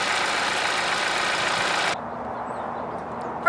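An I-4 2.4-liter engine in a Hyundai Sonata runs at a steady idle, heard as a constant hum that drops to a quieter, duller drone partway through. No speech.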